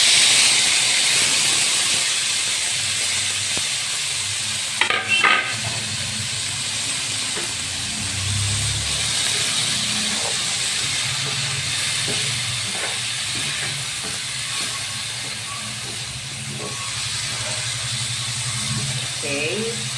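Tomatoes and garlic fry in a pan, giving a steady broad sizzle and hiss throughout, with a few clatters of utensils and some low background rumble.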